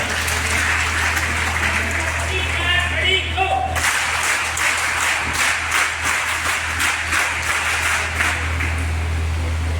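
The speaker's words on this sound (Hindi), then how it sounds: "आप अपने लिए जोरदार तालियां बजा दो." Students at a school event clap loudly together, a dense, sustained round of applause with sharp individual claps standing out, over a steady low hum and some voices early on.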